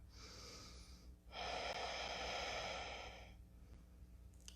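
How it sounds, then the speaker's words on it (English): Deep, forceful yoga breaths: a hissing inhale, then a longer and louder exhale that rushes out for about two seconds, with a softer breath at the end, all close to the mic and with no talking. "Deep, powerful breathing."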